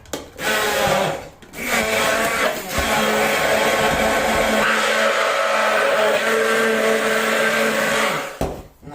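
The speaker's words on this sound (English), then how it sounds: "I then crack my egg in, and all we do is first we blend that up." An electric blender whirring in a jug as it blends a cracked egg with banana, a loud steady motor roar that starts, pauses briefly and runs again before cutting off.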